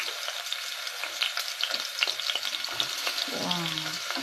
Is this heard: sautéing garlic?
yes